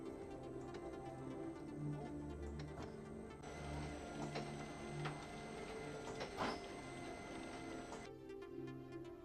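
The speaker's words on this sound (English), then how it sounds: "Press the button for double sheet positioning run twice again, and the sheet will be transported to the delivery." A printing press runs steadily, carrying a sheet through to the delivery with a continuous mechanical whir, rhythmic clicks and ticks, and a brief louder clatter partway through.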